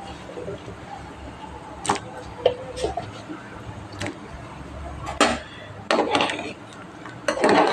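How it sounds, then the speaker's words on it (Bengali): A spoon stirs lentil dal with pumpkin pieces and Malabar spinach stems in a pot, giving scattered clinks and knocks against the metal at irregular intervals, with a voice talking in between. "একটু নেড়ে দিলাম ভালো করে।"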